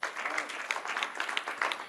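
Audience applause at a book launch event: scattered, light clapping from a modest crowd, with quick individual claps popping out over two seconds amid faint background voices.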